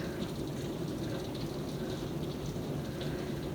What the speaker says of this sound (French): Je vais vous montrer, regardez, c'est comment qu'il mouille